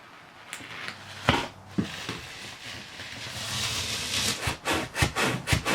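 Damaged, water-soaked RV floor covering is peeled up by hand, producing close tearing and rubbing scrapes that come in quick strokes, growing busier toward the end.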